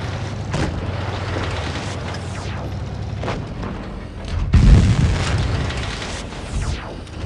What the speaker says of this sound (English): going to shoot at the Bulldog and miss our Inferno shot